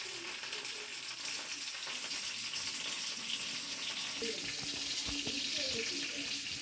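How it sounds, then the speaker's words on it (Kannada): Steady, dense sizzle of bangude fish frying in a pan, constant and moderately loud throughout with some faint background clatter. "ನೋಡಿ ಮೀನು ಫ್ರೈ"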